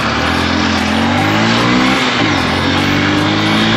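A motorcycle on an offroad ride near Palungtar, Gorkha, revs hard and close, with a loud buzzing engine note that holds steady and then dips and rises briefly.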